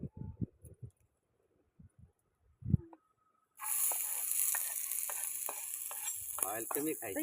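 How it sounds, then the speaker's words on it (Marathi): Oil heating in a hot pan before prawns and onion go in, silent with a few clicks and knocks at first, then a loud, steady close sizzle starts and runs to the end. "गरम झाले आता तेल टाकून घेते"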